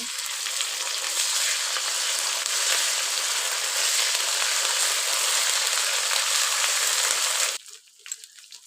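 Onion frying with ginger garlic paste in hot oil gives a loud, steady sizzle and crackle that holds for several seconds, then drops away abruptly to a few soft stirring sounds.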